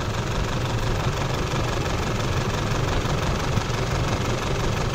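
An Isuzu D-Max diesel engine idles roughly with dead injectors on cylinders 1 and 4, giving an uneven, knocking rumble, steady and close, no voices.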